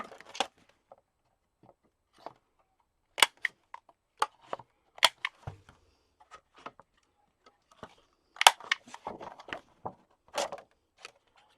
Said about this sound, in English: so I do take my corner punch, and I round the corners.